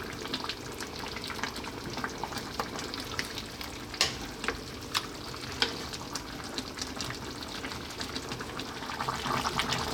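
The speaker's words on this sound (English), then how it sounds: "Give it a stir every now and then." A Greek lamb stew with potatoes bubbles and sizzles in a pot, with scattered scraping clicks from a spoon being stirred through it, close and fairly quiet, no voices.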